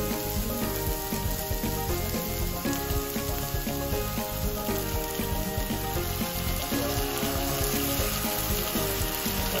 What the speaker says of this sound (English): Cook the onions for 5 to 7 minutes or until it gets softened